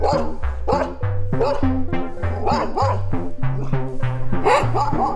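A dog in a Hindi cartoon barking repeatedly in a quick, loud, evenly paced series close by, with the bark sound dominating throughout.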